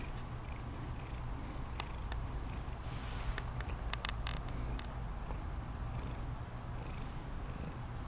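A pet cat purrs in a low, continuous rumble close by, with a few faint clicks and small handling noises over the steady hum.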